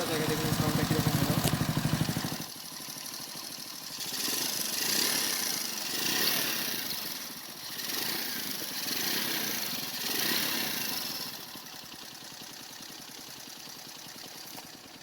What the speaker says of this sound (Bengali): চলুন এখন আমি বাইকটা স্টার্ট করে আপনাদেরকে দেখাই যায় বাইকের সাউন্ডটা কীরকম হলো